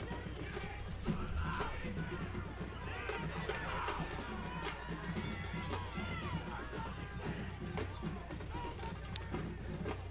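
Coaches and staff on the sideline of a high school football game yell and cheer amid a busy crowd's chatter and shouts, a dense, steady din with scattered raised voices.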